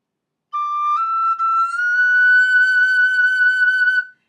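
A tin whistle plays a single sustained note that slides upward into E as a finger moves across the hole, clear and close, holding steady for about three seconds with no talking.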